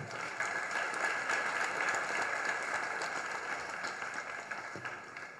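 Audience applause during a Jain religious sermon, a steady broad wash of clapping from a crowd filling the whole stretch without pause, moderately distant, easing slightly toward the end.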